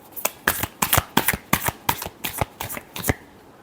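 Tarot cards shuffled in a steady run of about nine crisp riffling bursts, evenly spaced and close up, with no talking over them.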